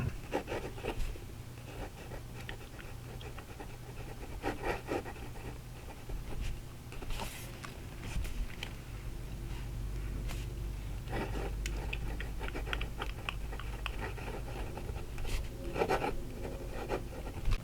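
A fountain pen scratches and glides across smooth Tomoe River paper in quiet, close strokes, with short bursts of nib friction separated by brief pauses.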